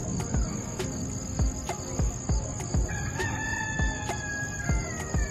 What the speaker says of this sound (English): What is this rooster crowing about?